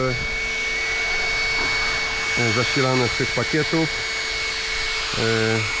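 Two electric ducted jet fans cooling an Arrma RC car blow with a steady, close whooshing whine and a thin high tone, running throughout while someone talks over them.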